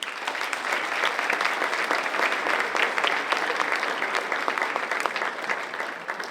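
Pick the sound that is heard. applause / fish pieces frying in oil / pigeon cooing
applause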